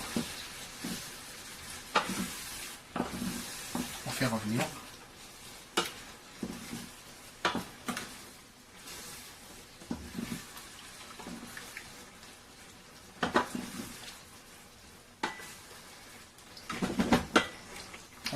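Mango pieces and coconut milk sizzling in a pan, stirred with repeated scraping strokes; a steady close crackle runs underneath while sharper spoon-against-pan scrapes and clatters come in irregular bursts.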